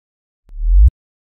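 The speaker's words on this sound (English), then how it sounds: "And it's just a sub kick, the tail of that in reverse." A reversed sub kick tail swells from silence into a deep rising rumble that builds in loudness and cuts off abruptly, a lone sub whoosh layer.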